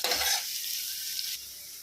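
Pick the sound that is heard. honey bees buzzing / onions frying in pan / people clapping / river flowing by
onions frying in pan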